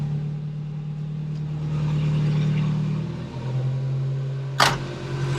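A Porsche 924 Turbo with Bosch K-Jetronic fuel injection idles just after a cold start, a steady close engine hum that dips briefly and recovers, with a sharp click near the end and no talking.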